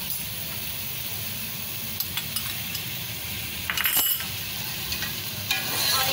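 Taro (arbi) cooking with masala and Maggi seasoning, stir-fried in a pan, giving a steady close sizzle with occasional scrapes and clinks of a spoon against the pot.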